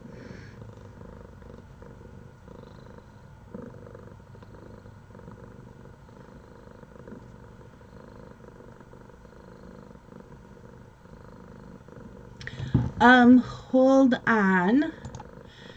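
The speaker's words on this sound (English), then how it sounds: "she's just purring up a storm now" A cat purrs softly and steadily in a low continuous rumble, then a voice briefly breaks in near the end.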